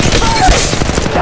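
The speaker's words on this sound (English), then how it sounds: "They're shooting at me!" Dense, loud gunfire in the mobile game Apex Legends Mobile, with a continuous burst of rapid shots through the whole short moment.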